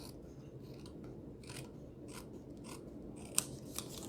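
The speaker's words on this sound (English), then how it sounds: "so just use your scissors" Quiet, repeated snips of scissors cutting through card, irregular crisp clicks spread across the clip with a low background hum.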